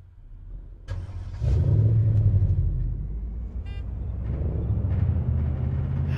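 Vehicle engine in a military shooter video game, rumbling low and steady, then surging louder around a second and a half in and holding a continuous driving drone with revving swells.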